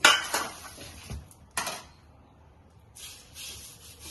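Curry leaves roasting dry in a pan until crisp for homemade rasam powder, heard as a few close scraping clatters of a spatula against the pan with brief crackling hiss between quiet pauses.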